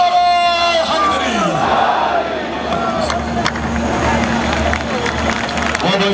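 Huge political rally crowd at a PTI jalsa at Minar-e-Pakistan in Lahore chanting a slogan, a loud roaring mass of voices following a leader's call, with cheering echoing across the open ground.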